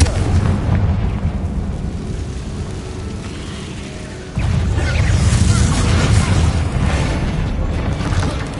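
A Confringo fire-blast spell bursts in Hogwarts Legacy, a loud, close booming explosion that swells abruptly midway and rumbles on with dense crackling, following a steady lower roar of game ambience.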